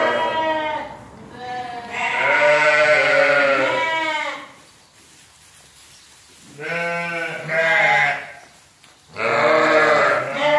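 A flock of sheep herded through a farm pen for shearing bleats loudly and close, in long wavering calls that overlap, pause, and return in bursts.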